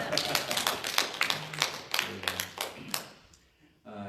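A church congregation at a Korean Sunday service claps hands in a steady, fairly even rhythm for about three seconds, with voices underneath, then it stops.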